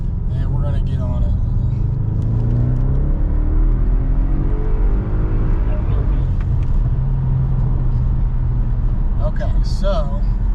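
An Audi RS7 with a cylinder 5 misfire accelerates hard in a rolling pull with traction control off, its engine roaring loud and close as the pitch climbs steadily under constant wind and road noise.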